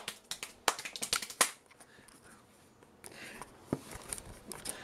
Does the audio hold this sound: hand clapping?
yes